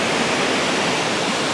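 Waves at a beach during high tide wash in as a steady, loud broadband roar of surf with no break, close by, and no voices over it.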